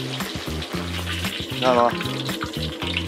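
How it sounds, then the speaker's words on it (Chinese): Pork skin of pig's feet sears skin-side down in a pan, giving a steady sizzle under a voice and low background music, with a brief bubbling swell midway. "把这个肉皮啊煎到它起泡就 OK 了，两边咱都煎一下"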